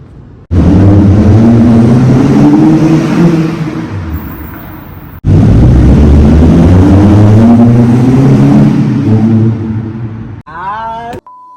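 Car with an Evil Energy aftermarket exhaust accelerating hard in two loud, close pulls, each rising in pitch through the revs before cutting off, then a brief quieter burst at the end.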